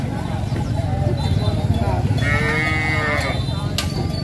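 Cattle moo at a busy livestock market in Ha Giang, Vietnam, long low calls rising over a dense crowd murmur, with people talking close by throughout and occasional clattering nearby.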